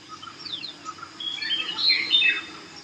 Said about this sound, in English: The tall trees, dirt roads, birds chirping, and the cool breeze would create a forest-like experience for you.